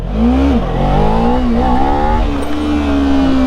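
A Kawasaki Ninja 300 motorcycle fitted with a 160/60/17 rear tire, revving hard for a clutch-dump wheelie: a loud, close engine whine that climbs, dips briefly and climbs again, holding high RPM to the end.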